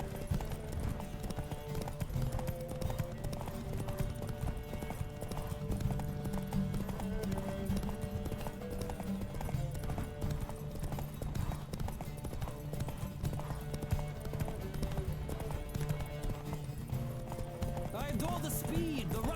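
In The Witcher 3, a racing horse gallops in a fast, steady rhythm of hoofbeats that runs throughout, close and continuous, under a music bed and occasional speech.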